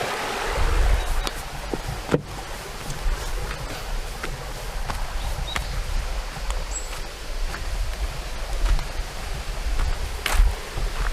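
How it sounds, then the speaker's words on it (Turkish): Steady rushing of a waterfall's flowing current, a continuous broadband wash with occasional faint clicks and rustles, close by and without voices. "Bakın suyun akıntısı da böyle işte."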